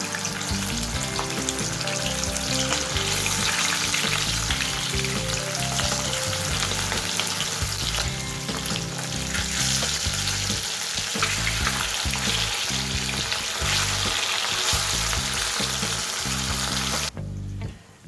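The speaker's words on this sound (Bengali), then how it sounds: "তেল খুব ভালোভাবে গরম হয়ে গেলে আমি মাছটা দিয়ে দেবো।" Bata fish fries in hot mustard oil, a loud, dense, continuous sizzle and crackle that holds steady up close before cutting off near the end.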